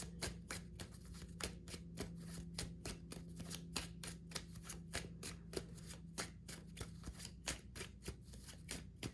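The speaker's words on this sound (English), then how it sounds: "I'm going to shuffle the gold cards because I hear they need to come out" Tarot cards being shuffled by hand, a steady run of crisp riffling flicks and taps repeating throughout, close and fairly quiet over a low background hum, with no talking.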